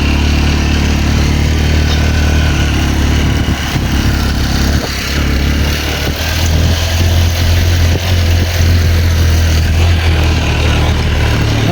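Several motorcycles near a newly opened road in Pundol, engines running steadily and loud with a continuous low rumble and idling throb, occasional revving swells, no talk.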